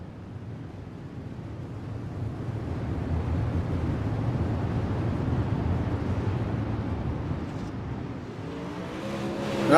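Super Late Model dirt race cars rumble in a steady, broad engine roar at Kokomo, the sound swelling slightly as the pack runs in formation, with no talking.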